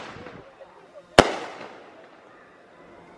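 A single sharp firework blast, a Yowza shot in a backyard New Year's Eve display among trees, cracks loudly once and then decays into a rumbling echo, with voices faintly heard before it.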